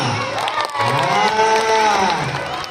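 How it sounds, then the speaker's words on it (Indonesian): Children at a school Isra' Mi'raj gathering clap and cheer for class 5, high young voices shouting over scattered applause in a lively, echoing crowd. "Tepuk tangan untuk kelas 5"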